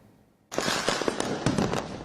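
A rapid crackling burst of Tamil Nadu festival firecrackers starts abruptly after a brief quiet moment and keeps popping loudly in a dense string.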